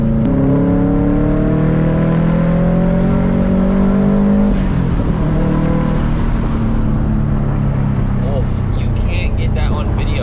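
A boosted Subaru STI's engine revs loudly up close, its pitch climbing and then dropping before settling into a rough idle, while a person talks over it.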